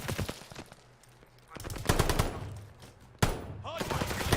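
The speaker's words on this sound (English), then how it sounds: "Hard point is under fire." Rapid automatic gunfire crackles at a hard point in a Call of Duty match, sounding in loud sustained bursts that break off and start again, with game voice chatter mixed in.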